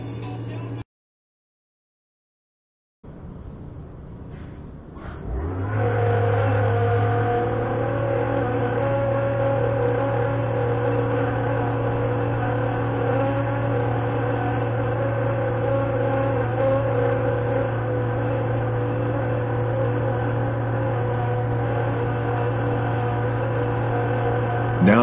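A truck-driven blower spins up to pressurize a pneumatic trailer tank, starting after a brief silence, rising within a few seconds into a loud, steady, sustained whine and hum that holds without talk.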